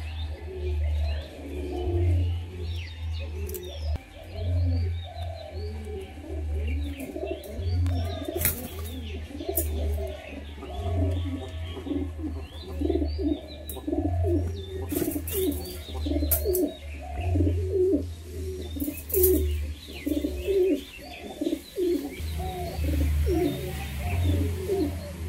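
Madras pigeons coo in steady, repeating low rolling phrases, close and clear, with occasional faint chirps from other birds in the background and no talking.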